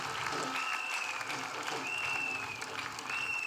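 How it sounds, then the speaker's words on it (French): A church congregation clapping loudly and steadily throughout, dense applause with a faint tonal whistle or feedback line above it. "Clap loudly."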